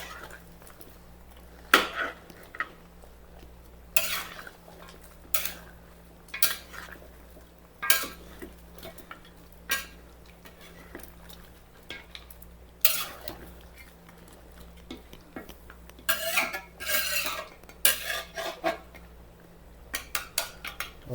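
Pork ribs kaldereta is stirred in a metal pot, a ladle scraping and clanking against the sides in irregular bursts of clatter over a low steady hum, close and moderately loud with no talk.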